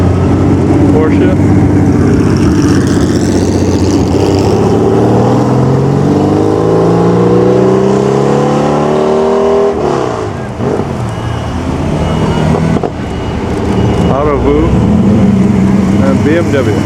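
A Porsche drives past at the 2013 Pebble Beach Concours, its engine loud and close, swelling and then falling away, with crowd noise and talk mixed underneath.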